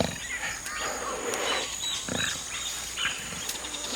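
A jaguar calls in the wild American rainforest, a series of rough, grunting vocalizations at moderate volume, set against a busy background of ambient jungle sound.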